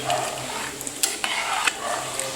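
A spoon scrapes and clinks against a pot as rice is stirred in for khichdi while something sizzles softly underneath, with a few scattered taps over steady kitchen background.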